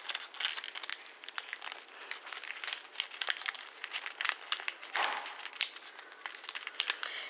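Paper being folded into an origami Transformer robot, close crisp crinkling and creasing in quick irregular bursts, with sharper crackles and one longer rustle, no voices.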